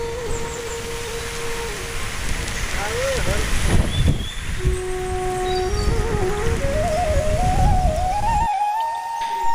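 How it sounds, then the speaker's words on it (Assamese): Heavy rain falls outdoors along a road at a scenic viewpoint, a steady, dense hiss that fills the whole stretch, with some thin tonal sounds drifting over it and a brief drop near the end. "তামাম বৰষুণ দি আছে বন্ধুসকল,"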